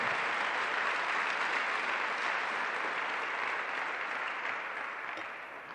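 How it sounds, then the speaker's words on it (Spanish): A church congregation claps steadily and densely throughout, with a broad, even wash of hands that fades slightly toward the end, and no voices over it. "Démosle una ofrenda de palmas al Señor"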